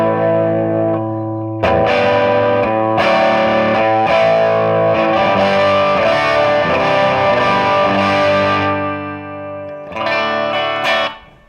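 Electric guitar played through a 3 Monkeys amplifier on its second setting, a dense distorted tone with sustained chords and notes ringing loud and close for about ten seconds, then a brief pause and a final strummed burst, no talking.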